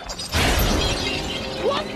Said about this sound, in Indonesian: rumah Red hancur tertimpa jangkar kapal